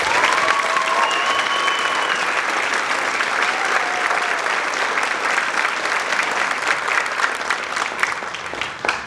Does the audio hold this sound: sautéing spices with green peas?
no